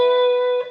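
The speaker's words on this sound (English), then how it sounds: "That's the sound of a fifth." A perfect fifth rings out on a PRS SE Hollowbody electric guitar, two notes sustained together clearly and alone, holding steady before a slight shift and fade near the end.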